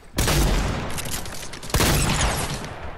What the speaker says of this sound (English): did you shoot an SMG?